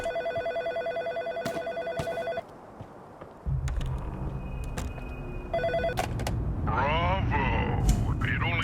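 A telephone rings inside the psychological horror video game In Sound Mind, sounding in repeated bright electronic bursts, then a rumbling ambience and a distorted voice-like tone follow.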